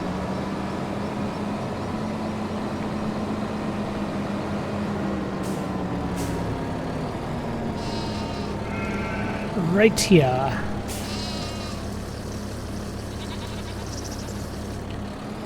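Goats bleat on a farm in the Farming Simulator 25 video game: one short wavering bleat stands out near the middle over a steady engine-like hum, with someone talking throughout.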